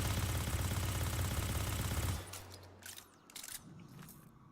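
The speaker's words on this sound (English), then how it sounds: "I'm going to fire and not try to control the recoil." SMG from Destiny 2 firing in a rapid, unbroken burst for about two seconds, loud and mechanical, then stopping abruptly, followed by quieter clicks and handling sounds.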